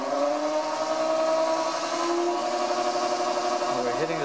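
A NanRobot D4 electric scooter's motor accelerates in first gear, a loud continuous tonal whine holding steady and slightly climbing, with a brief wobble in pitch near the end.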